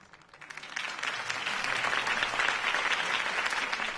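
Crowd applause after a campaign speech in a Batman Telltale video game, rising from quiet into loud, sustained clapping with no talk.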